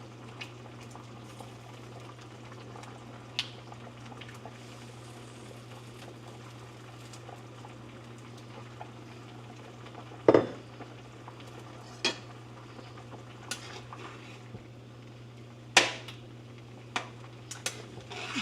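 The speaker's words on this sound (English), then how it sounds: "Now we're gonna add our potatoes." Potatoes dropped into a pot of cold water while cooking Dominican sancocho, giving a few scattered clunks and soft splashes against a steady low kitchen hum, with no talking.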